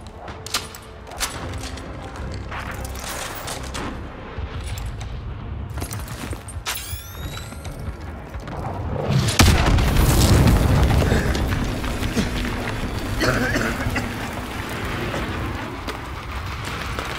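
Naval shelling explosions in Call of Duty Modern Warfare 2 Remastered at the Gulag, heavy booms and crackling impacts that swell into a deep rolling blast midway, then settle into sustained rumbling debris.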